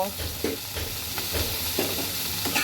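Fish and jackfruit seeds fry in spiced masala in a pan, a continuous hissing sizzle broken by repeated scraping strokes of a spatula stirring at an uneven rhythm, close and fairly loud.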